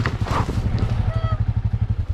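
Motorcycle on a dirt trail, its engine chugging with an uneven low pulsing beat before dying out, close by, with a voice briefly audible near the start.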